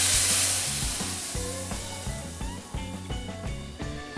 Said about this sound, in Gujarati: આપણે આ વઘાર પાલક પનીરમાં નાખી દેવાનો છે.